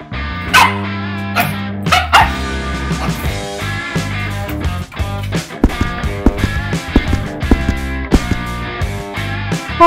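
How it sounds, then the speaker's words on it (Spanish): A dog barks repeatedly in quick, loud bursts with some yips and whimpers, close by, over a background of music. "¿Por qué ladras tanto?"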